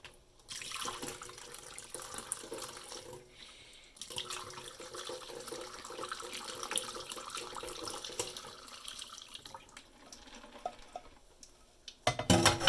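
Tap water runs steadily into a pot as it is rinsed out after brewing leaf tea, a continuous splashing flow that carries on for most of the stretch, with brief pauses and a sharper clatter at the end.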